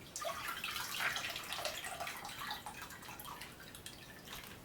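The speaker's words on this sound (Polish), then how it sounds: "I teraz ten groch zalewam około, mam tutaj litr wody, zalewam go tutaj wodą." Water poured from a container over dried split peas to soak them, a steady splashing, trickling pour close by that runs without pause for several seconds, with no talk.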